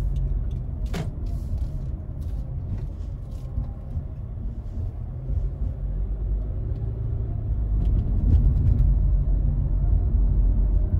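Inside a 2021 Honda Civic RS hatchback on the move, its 1500cc turbo engine makes a steady low rumble and drone that rises in loudness near the end, with a few faint clicks.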